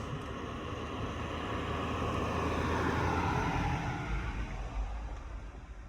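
A car passes on a dark road at night, its broad steady roar of engine and tyres filling the whole stretch, swelling near the middle and then easing slightly as it moves on. No one speaks.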